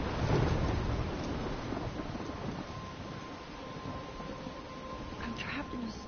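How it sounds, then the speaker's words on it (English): Heavy rain hissing steadily through a thunderstorm in Life is Strange, with a low rumble of thunder at the start and a few brief voice-like sounds near the end. "I'm trapped in a storm?"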